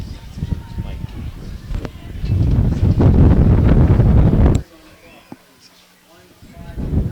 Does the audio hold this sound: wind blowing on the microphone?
yes